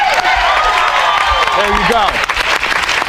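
Loud applause and cheering from a crowd, continuous through the moment, with voices talking and shouting over it.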